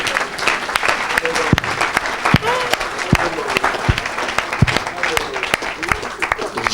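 A congregation at a church service claps loudly and steadily throughout, crisp hand claps scattered across the whole room, with a voice speaking over the applause.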